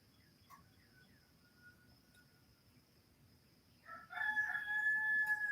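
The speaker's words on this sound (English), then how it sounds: "That's my rooster." A pet rooster crows once from nearby, a loud drawn-out call rising out of a quiet morning background with faint insect chirps before it.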